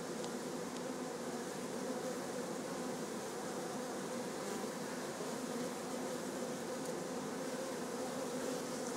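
Bees fly around beehives at a village homestead in June, making a dense, continuous buzzing swarm drone that holds steady at a moderate level throughout.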